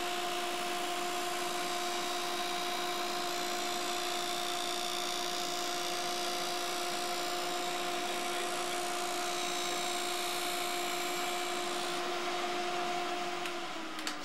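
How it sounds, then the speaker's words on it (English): An ice hockey skate blade is drawn lightly across a spinning grinding wheel coated with rubbing compound, giving a steady, even hum and hiss with two sustained tones that runs unbroken, close up and alone. "run the blade lightly across the grinding wheel once"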